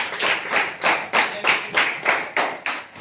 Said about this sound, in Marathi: त्यासाठी जोरदार टाळ्या